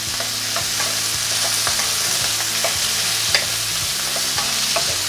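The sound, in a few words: frying fruit and lemon for sweet and sour sauce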